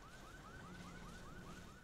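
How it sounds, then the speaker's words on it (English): A car alarm sounds in the video game Saints Row the Third, a faint, repeating rising electronic whoop that cycles at a steady rhythm in the background with no talking over it. "Someone turn off that car alarm."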